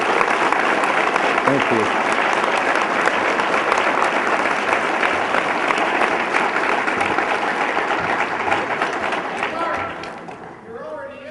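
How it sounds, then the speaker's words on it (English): A hall-of-fame ceremony audience at a St. Louis amateur hockey event breaks into loud, sustained applause that fills the room, fading toward the end as a voice briefly speaks over it. "Please give them a round of applause."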